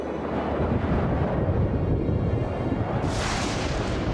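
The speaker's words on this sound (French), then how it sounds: "Le vent se lève." Strong wind rises ahead of a storm in an animated show, roaring continuously in a dense, rumbling wash, with a hissing gust swelling in toward the end.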